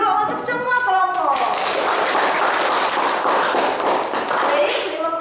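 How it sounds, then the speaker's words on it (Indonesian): A classroom of students clapping for the presenting groups, a dense broadband patter of many hands that starts after a brief voice and holds steady and fairly loud to the end. "Tepuk tangan dulu untuk semua kelompok."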